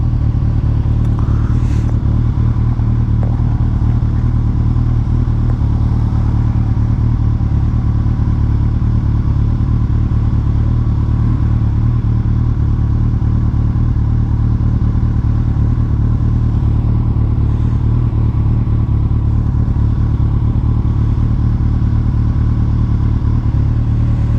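A Kawasaki ZZR1400 (ZX14) motorcycle rides along roads near Blackshaw Moor, Staffordshire, with a loud, constant engine drone and rushing wind that continue without a break.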